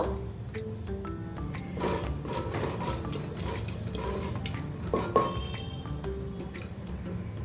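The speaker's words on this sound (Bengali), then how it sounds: "প্রথমে দিলাম একটি তেজপাতা, একটি শুকনো লঙ্কা আর জিরে দিয়ে একটু ভাজা ভাজা হওয়া পর্যন্ত অপেক্ষা করব।" A bay leaf, one dried red chilli and cumin seeds frying in hot oil for khichdi crackle and tick in rapid, irregular pops over a low bubbling bed, close up with no voices.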